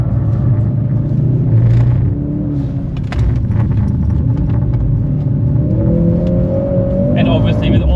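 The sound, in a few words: Mercedes-AMG car accelerating out of a corner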